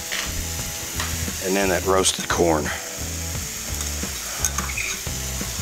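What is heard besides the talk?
lima beans and roasted corn sizzling in butter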